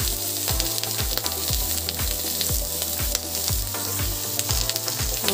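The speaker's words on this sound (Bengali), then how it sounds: "এর মধ্যে আমি একটু নুন আর হলুদ দিয়ে বেগুনটাকে ভেজে নেব" Eggplant fries with salt and turmeric in a pan, a steady sizzle broken by regular scraping strokes of stirring. No one speaks.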